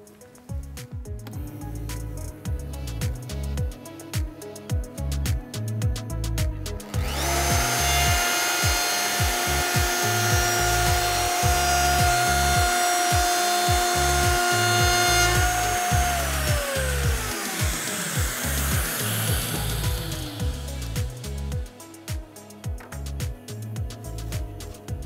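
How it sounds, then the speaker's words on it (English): A Festool router, connected to an extractor, trims glued edging on a CONTURO KA 65 edge-banding setup. A steady loud whine from the motor and extractor runs over rough rubbing and cutting noise, then winds down toward the end. "simply pass the router over the glued edging to obtain the perfect edge"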